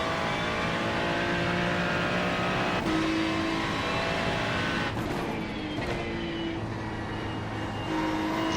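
NASCAR Cup Series race cars circling the Nashville track, a dense, loud, continuous engine roar with layered whining tones rising and falling as cars pass, steady throughout.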